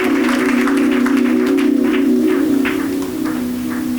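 Church congregation clapping together in steady, continuous applause, loud and close, filling the whole moment without pause and with a sustained tone underneath.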